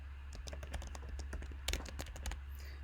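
Rapid, uneven clicking of a computer keyboard on a Mac as a password is typed, with close, distinct keystrokes running steadily for about three seconds over a faint background hum.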